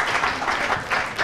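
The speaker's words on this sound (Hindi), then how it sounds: "तालियां बजा दीजिए भाई के लिए" A studio audience claps steadily during a Ramzan iftar cooking show, a dense, fairly close patter of many hands that swells and eases in a few waves without stopping.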